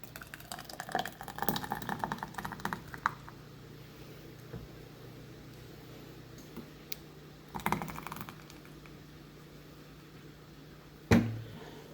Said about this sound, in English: we are now going to ladle our hot jam into our clean, sterilized jars